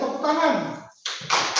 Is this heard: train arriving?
no